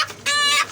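A chicken gives a single short, close, loud cluck, a brief nasal call lasting under half a second.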